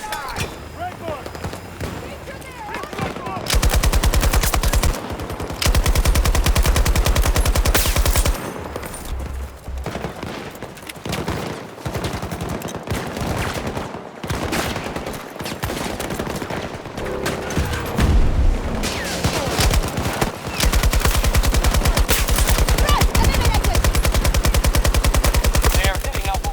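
Machine gun fire in the video game Battlefield 2048, long loud rapid bursts and sustained fusillades of gunshots broken by short pauses, with voices shouting amid the shooting.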